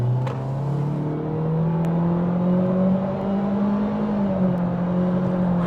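A 2026 Honda Civic Sport Hatchback engine with a CVT drones under throttle, its pitch climbing slowly and steadily as the revs build, loud and close.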